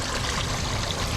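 Water flowing and bubbling with aeration in a DIY bait livewell, a steady close hiss of churning water and small bubbles with no break.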